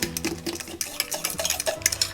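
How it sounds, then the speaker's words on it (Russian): A fork stirring flour and salt in a bowl, a close run of quick scraping and clinking strokes against the dish, irregular but continuous, with no voices. "Перемешаем эти ингредиенты при помощи вилки до однородного состояния."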